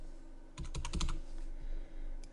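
Typing on a computer keyboard while filling in a spreadsheet invoice template, a quick burst of several close key clicks followed by a couple of softer isolated taps.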